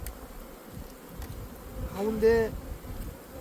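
Honeybees buzz at the entrance of a beehive, a steady low insect hum close by, with a voice speaking briefly over it.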